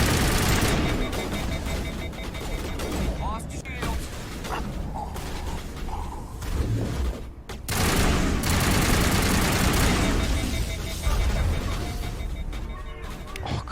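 Assault rifle fire in the Mass Effect video game, sustained loud bursts with mechanical clatter and crashes, broken by a brief pause before firing resumes, with some voice under the shooting.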